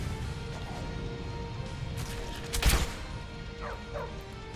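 A dog companion in Skyrim gives a few short barks and yips, faint and intermittent, over ambient game sound, with a louder crashing impact midway.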